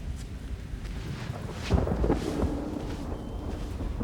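Thunder rolls through an electrical storm on a remote island, a low continuous rumble that swells into a louder crack near the middle and keeps grumbling, with a steady wash of rain or wind underneath and no talking.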